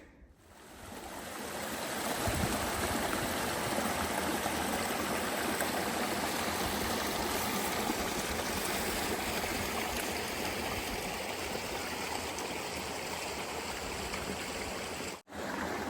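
A steady rushing stream of water at a water source along the Ouachita Trail, heard close and continuous throughout with a broad, even roar, briefly cut off near the end.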